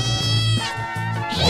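A cat meow sound effect plays up close and clearly: a drawn-out, wavering meow followed by a second shorter cry.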